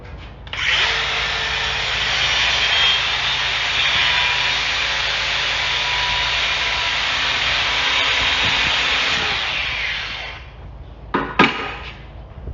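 A grinder sharpens the steel BCS teeth on a PRINOTH M450s mulcher: one loud, steady, high-pitched whine lasts about ten seconds and then cuts off, followed by a couple of short metallic clanks.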